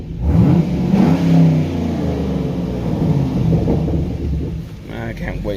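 A fifth-generation Chevrolet Camaro V8 gets a brief rev from inside the car, a deep swelling engine roar that rises and falls once, heard up close under a voice.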